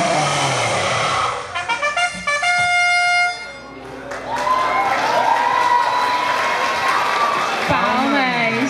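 A crowd at a cosplay performance event cheers and claps after a stage act, with loud tonal voices and effects first, then a broad roar of applause and shouting under more voices.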